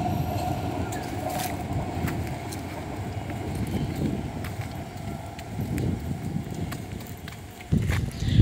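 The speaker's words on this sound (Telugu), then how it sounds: "ఆ బ్రిడ్జి దగ్గర అట్లా రైలు పోతుంటే చూడడానికి సూపర్ అనిపిస్తుంది." A six-car train crosses the Sungai Kadut railway bridge in Singapore, making a continuous low rolling rumble with faint rhythmic clicks that grows louder near the end.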